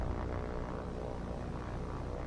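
A biplane drones steadily overhead in the naval combat game War On The Sea, a continuous dense propeller engine hum at steady loudness with no pauses or other sounds.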